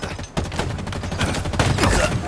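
Gunfire in Halo Infinite sounds as a rapid burst of loud, close shots in a steady rhythm, laid over busy game noise with no talking.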